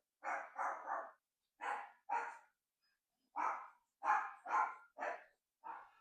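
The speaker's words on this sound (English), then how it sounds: "There goes my dogs." Several dogs barking indoors in short clustered bursts of two or three sharp barks, fairly close and loud, with brief pauses between volleys and no talking.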